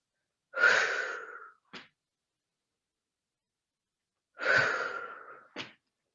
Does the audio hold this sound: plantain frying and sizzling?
no